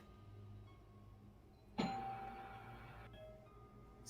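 A doorbell chimes once in a live-streamed game session, a clear ding-dong tone ringing out and fading over a low hum, followed by a fainter second tone, with no talking.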